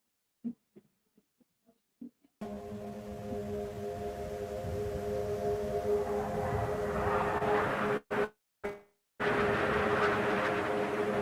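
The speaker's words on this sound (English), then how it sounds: "There's never a night where I don't hear the jet." A jet aircraft roars steadily overhead in a climate film trailer, its broad, loud rumble building after a few soft clicks and briefly cutting out twice before resuming.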